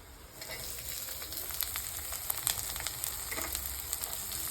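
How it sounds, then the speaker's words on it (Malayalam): Onions sizzling in a hot pan with garlic and green chilli, a steady close frying hiss with small crackles and occasional stirring scrapes, no voices. "വഴറ്റിന് നമുക്കിതിലേക്ക് ഉള്ളിയിടാം."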